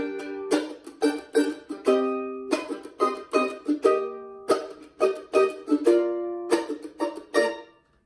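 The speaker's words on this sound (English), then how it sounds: "My part is taking some of the elements of the snare drum and adding it to the mandolin." Mandolin picked in a percussive, snare-drum-like pattern, bright plucked strings with choppy muted strokes and ringing chords in a steady syncopated rhythm, played alone and close.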